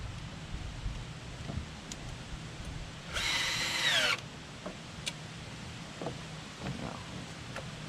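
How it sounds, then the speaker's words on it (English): A power drill with a socket drives bolts home while building a rock guard for an RV tow vehicle, one loud whirring burst of about a second standing out over quiet background and scattered small clicks. "decided to use the drill"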